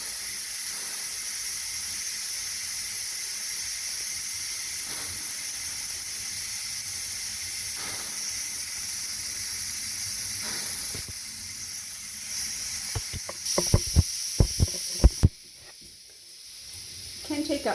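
Steady, loud hiss of steam venting from a pressure cooker's release valve while French onion soup cooks, continuing for most of the stretch before a few clicks and knocks near the end and a sudden drop in level.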